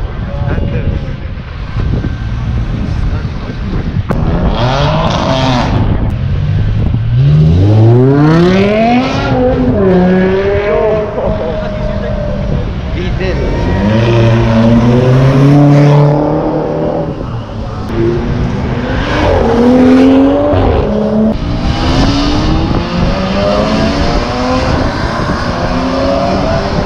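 Cars at an F1 car event and BMW breakfast run, engines revving and rising in pitch in repeated sweeps, loud and close, with crowd chatter and voices mixed in throughout.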